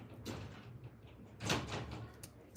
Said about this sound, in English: So, you hear the wind to blow the door,